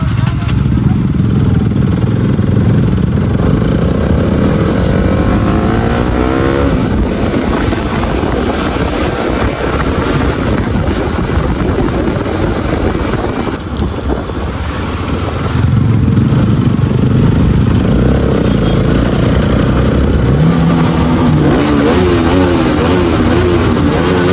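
Several motorcycles on a Sunday morning group ride, engines droning and revving together continuously under strong wind buffeting, with voices talking over the noise.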